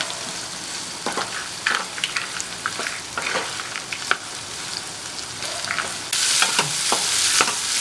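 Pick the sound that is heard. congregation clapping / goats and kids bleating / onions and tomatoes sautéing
onions and tomatoes sautéing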